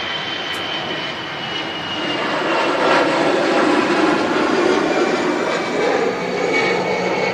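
An EasyJet Airbus A320 departing Manchester Airport for Munich, with a loud, sustained jet engine roar that swells and holds steady as it passes, and no voices heard.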